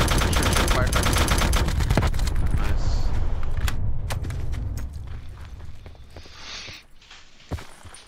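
Automatic gunfire rattles close and loud in the Black Ops 4 Blackout video game, rapid bursts that fade into scattered single shots and quieter game noise, with players talking over it.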